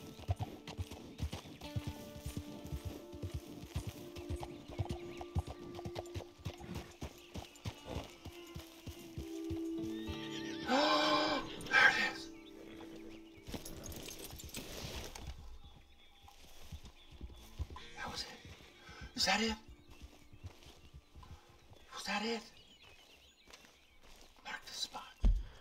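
Horse hooves clopping over rocky ground in Red Dead Redemption 2, a steady run of light, close footfalls with a few louder thuds, while a person talks over them.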